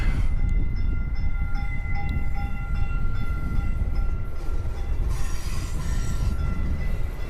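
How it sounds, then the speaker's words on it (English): A DART light rail commuter train rumbles close by with heavy low roar and steady thin metallic squeals from the wheels, loud throughout. "Dart train coming in from Plano"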